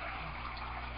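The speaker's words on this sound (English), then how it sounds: "I've got a little circular air stone churning the water in my sump tank" A small circular air stone churns water in an aquaponics sump tank, giving a faint, steady bubbling hiss with no breaks.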